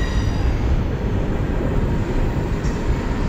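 A fast freight train rushes past close by as its rear DPU locomotive goes through, a loud, dense rumble and rattle of wheels and cars filling the whole clip.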